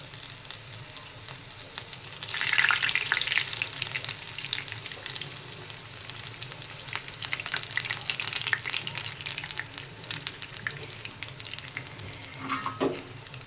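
Chicken samosas fry in hot oil in a pan over a low flame, giving a steady crackling sizzle that swells briefly when they go in, with scattered pops and clinks throughout.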